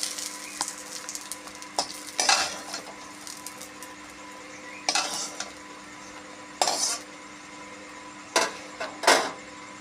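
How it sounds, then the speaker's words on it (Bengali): Pointed gourd (potol) slices are fried in oil and lifted out of the pan. A low sizzle runs under repeated scraping and clattering bursts from a metal spatula against the pan, and no one speaks. "পটল ভাজা হয়ে গেছে"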